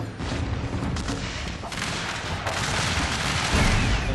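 Confederate regiments fire musket volleys from defensive positions in Shogun 2 Total War, a dense crackle of overlapping shots rolling continuously at mid distance, growing slightly louder toward the end.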